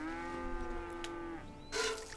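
A cow lows in a long, steady moo during milking chores on a ranch in Red Dead Redemption 2, with a brief splash of liquid near the end and no one talking.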